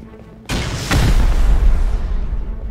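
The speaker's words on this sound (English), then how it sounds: "You got a rocket in there." A rocket explodes in the game Rust: after a low background murmur, a sharp loud blast hits, then a second crack, trailing into a rolling rumbling decay.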